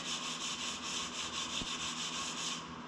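Sanding a classic car's dented body with 80 grit sandpaper makes a close, quiet rasping that swells and fades in quick regular back-and-forth strokes, about a dozen passes, with one brief knock midway and no talking.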